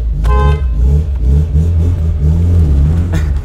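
Tofaş Şahin car engine running loud and close with a steady low rumble that swells and dips as it revs over a few seconds, plus a short higher tonal burst near the start.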